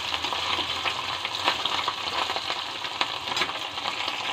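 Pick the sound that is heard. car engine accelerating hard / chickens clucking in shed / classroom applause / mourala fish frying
mourala fish frying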